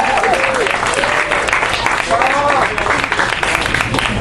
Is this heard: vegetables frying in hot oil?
no